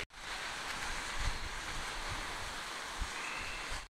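Strong gale wind blowing at the seaside at Portland Bill, Dorset, a loud, constant roar of buffeting gusts and surf with low rumbling thumps against the microphone.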